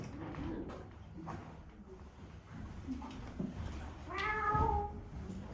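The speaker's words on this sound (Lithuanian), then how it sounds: "O, katinėlis man." A cat gives one clear, drawn-out meow near the end, fairly close but quiet, over low background rumble and faint indistinct voices.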